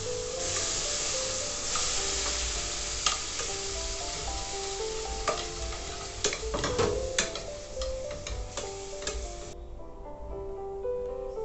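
Tomatoes tipped into a hot pan for a lentil stew with saffron, giving a steady close sizzle and hiss with scattered clicks and stirring scrapes, ending in quieter simmering; no voices.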